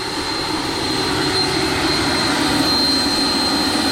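Steady whirring whine of a small electric ducted fan on an MD 600N RC helicopter running close by, an even broadband rush with a faint high tone and no talking.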